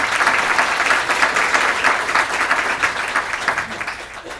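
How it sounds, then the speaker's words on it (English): Sustained audience applause fills a breakfast event hall, loud and dense with many hands clapping steadily throughout, no voices breaking through. "Please give her a round of applause."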